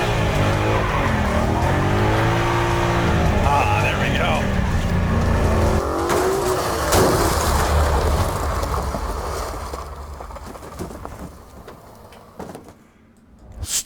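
A car drifts and slides using its tail end, tires squealing with loud, continuous engine and tire noise that fades toward the end, with people talking over it.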